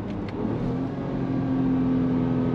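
A 2023 Acura MDX Type S SUV with a quad-tip exhaust idles with a steady low rumble and hum, then swells slightly as it revs, fairly close and continuous with no talking.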